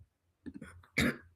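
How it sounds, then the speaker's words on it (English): A brief, close throat clearing: a few soft rasping grunts followed by one harsher, louder rasp, then quiet. "Let me clear my throat."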